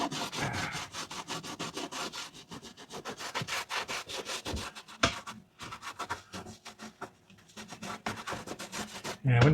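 A Sprinter campervan roof being scrubbed with window cleaner, close rhythmic back-and-forth rubbing strokes that repeat steadily, with a short pause partway through.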